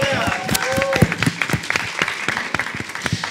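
Scattered audience clapping at a graphic-arts portfolio presentation follows a brief spoken line, a sparse, uneven patter of hands that stays fairly light rather than building into a roar.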